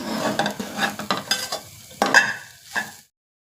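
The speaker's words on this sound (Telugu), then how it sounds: "దీన్ని అయితే మనం ఇలా దీన్ని ఒక టూ మినిట్స్ ఇలా వేయించుకోవాలండి" A pan on the stove for a jaggery sweet being stirred, with a spoon scraping and knocking in quick strokes over a bright frying sizzle, close and clear, ending abruptly in silence after about three seconds.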